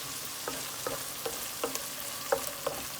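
Eggplant curry with chopped garlic leaves fries in a pan under a soft continuous sizzle, punctuated by a steady series of about ten light spatula scrapes and taps, close and moderately quiet.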